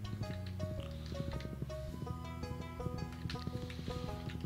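Horse hooves in Stardew Valley, a steady run of light rhythmic clip-clop steps over soft game background music, fairly quiet and continuous with no talking.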